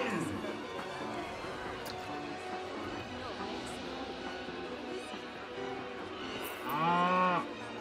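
A cow moos in the video game Planet Coaster, a short lowing call near the end over a steady background of park crowd ambience and game sounds.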